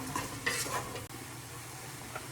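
Enchilada sauce ingredients cooking in a pot, giving a soft steady sizzle with a few scraping stirs and light clinks of a utensil against the pot, close and alone without talk.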